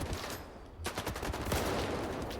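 Rapid, loud bursts of gunfire in a fast-paced demon-slaying first-person shooter, a dense volley of shots after a brief quieter start, with no talking.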